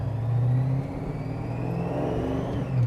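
A supercharged 1968 Dodge Charger restomod engine revs with a smooth, rising supercharger whine over a deep rumble, close and steady for a few seconds, no voices.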